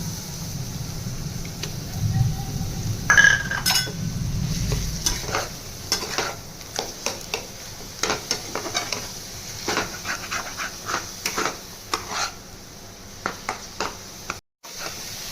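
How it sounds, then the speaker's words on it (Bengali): Coconut paste fries in a pan under a soft, steady sizzle, punctuated by repeated scraping strokes of a spoon stirring it, close and moderately loud. There is no talking. "এবার আমি নারকেল বাটাটা দিয়েও ভেজে নেবো এরকম ভাবে"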